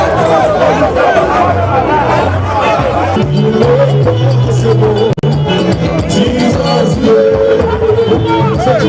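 A large crowd celebrates as Rivers State Governor Fubara comes out to greet them, with loud, constant chatter, cheering and singing voices filling the air throughout.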